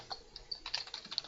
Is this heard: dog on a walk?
no